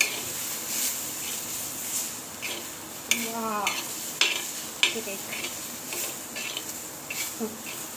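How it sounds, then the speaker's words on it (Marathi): Green chili peppers roast and sizzle in hot oil in a pan, with a steady frying hiss and a few spatula stirs and scrapes on the metal. "आपली मिरची जवळपास भाजलेली आहे"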